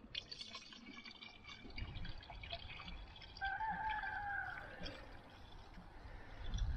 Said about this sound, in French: On va remettre de l'eau.